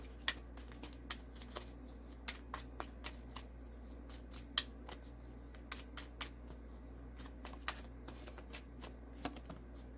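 Tarot cards being shuffled by hand, a steady series of soft, crisp riffling snaps repeating about every half second, close and quiet against a low background hum.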